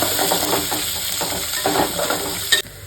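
Onions sautéing in a hot pan for Kanchipuram curd curry, a steady broadband sizzle with occasional stirring scrapes, close and fairly loud, ending in a sharp clink before the frying noise drops away.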